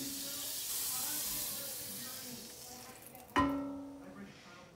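Butter sizzling in a frying pan, a steady bright hiss that fades slightly, then a sudden louder sizzle burst as more goes in, with faint clatter afterward and no clear talking.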